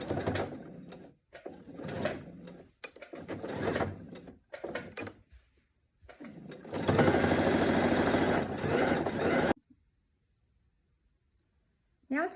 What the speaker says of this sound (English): I'm going to continue sewing the binding